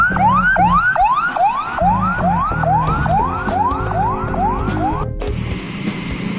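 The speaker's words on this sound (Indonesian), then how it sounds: "Oke, ini ada ambulan ya." An ambulance siren wails, sweeping up and down in a fast repeating cycle, loud and close, with the rumble of heavy, jammed traffic underneath on a road in Banda Aceh, Indonesia.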